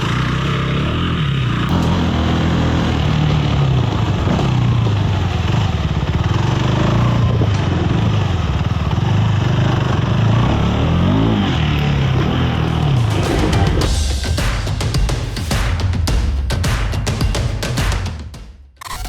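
A KTM 390 Enduro R single-cylinder motorcycle works through a tight off-road obstacle course between trees, its engine rising and falling steadily and loudly near the rider, then dropping into rough bumps and clatter toward the end.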